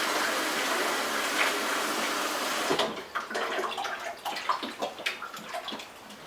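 Water sloshing inside a bottle as Star San sanitizer is swirled and shaken out, a steady wet rush giving way to irregular splashes and drips, close and moderately quiet.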